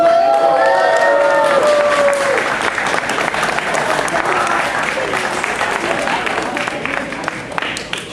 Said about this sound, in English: Let's give another round of applause for them.